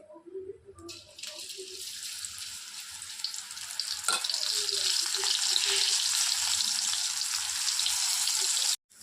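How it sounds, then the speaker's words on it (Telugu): Barbati (long bean) pakoras going into hot oil for deep frying: a few clinks and faint knocks at first, then a loud hissing sizzle that builds and holds steady until an abrupt cut. "ఆయిల్ మరిగింది కదండి ఇప్పుడు మనం మనం ఈ కలుపుకున్న బొరబాటి పకోడీలా వేసుకోవాలి"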